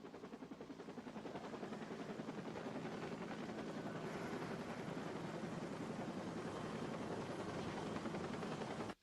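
A helicopter taking off, its rotor chopping loudly and steadily throughout, a dense pulsing drone with no talk.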